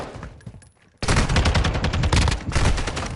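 Sustained automatic gunfire in Modern Warfare 2, loud and close, starting abruptly after a brief lull and continuing as a dense, rapid stream of shots.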